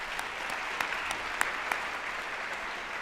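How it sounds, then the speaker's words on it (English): An audience at a Martin Luther King Day celebration in Montgomery County, Maryland applauds, a continuous, even roar of many hands clapping with a few sharper claps standing out, steady and moderately loud. "Let's give them a round of applause."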